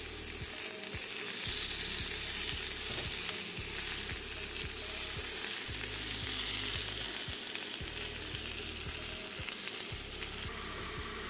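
Chunks of beef for a stew sear in a pot with a steady loud sizzle and crackle, broken by occasional clicks and scrapes as tongs turn the meat over.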